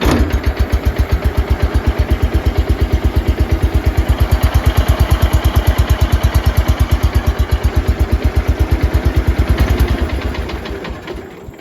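A cold Cub Cadet 169 garden tractor engine, started without choke, runs close by. It chugs in a loud, fast, even pulse throughout, then fades near the end.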